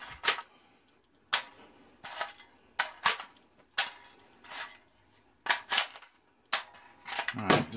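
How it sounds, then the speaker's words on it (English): Palmetto State Armory 30-round magazines are repeatedly seated into and released from an M4 rifle, giving sharp metallic clacks and clicks in spaced bursts at close range. "What we want to do is just make sure these guys seat up and release."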